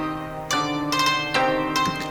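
A dark ethnic-style melody one-shot in FL Studio, played dry with no effects: a sequence of plucked, ringing notes with bright attacks, each one sustaining into the next at a steady moderate pace.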